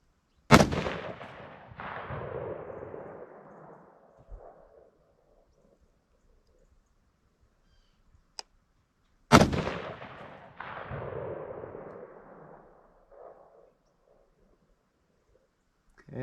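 Two loud 6.5 rifle shots firing ACSS Radical ammunition outdoors during deer season, each a sharp blast followed by a long rolling echo, spaced several seconds apart with a brief click between them.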